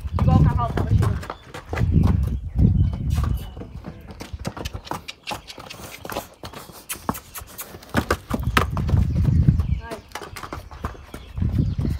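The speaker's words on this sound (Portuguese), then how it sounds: "Igual o cavalo tava chegando." Hooves of a young filly clip-clop in bursts of rhythmic steps, close by, while people talk over them.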